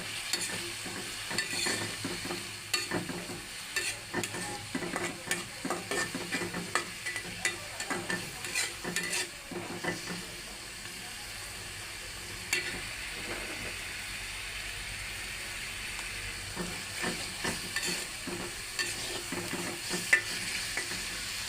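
Ground chili, cumin and coriander spices frying in a pan for a meat bhuna, a steady sizzle with rhythmic scraping stirs in the first half, then a quieter hiss with occasional stirs.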